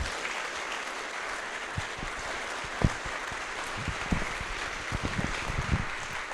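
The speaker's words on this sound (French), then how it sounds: "tout le monde mérite une bonne main d'applaudissement" Public assembly audience giving a round of applause, soft and somewhat distant steady clapping with a few sharper individual claps standing out.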